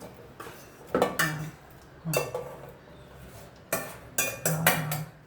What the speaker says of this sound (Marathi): हे आंबे आहेत ते हा मिक्सरच्या भांड्यामध्ये तो टाकणार आहे